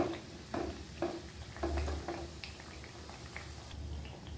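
Masala mathri sizzles in hot oil in a pan over a medium flame, a soft steady crackle with a few gentle clinks and stirs, quiet and close.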